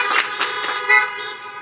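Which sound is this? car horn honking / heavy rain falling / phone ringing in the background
car horn honking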